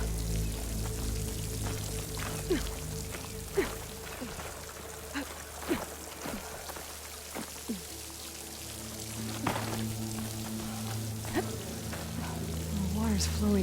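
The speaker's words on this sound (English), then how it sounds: "The water's flowing into the wall." Water pours steadily into a rock wall in the game Horizon Forbidden West, a continuous splashing rush with scattered drips and sharper splashes over a low ambient rumble, and no voices.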